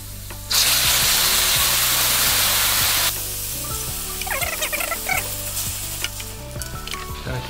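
Unwashed rice sizzling in oil in a pot while being toasted for a cheese risotto, a loud continuous frying hiss with stirring scrapes, no talk.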